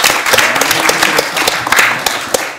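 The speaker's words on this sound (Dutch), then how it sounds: "Nog een warm applaus." A festival audience at a tech and digital policy event applauds warmly, a loud, dense wash of clapping that continues steadily from start to end.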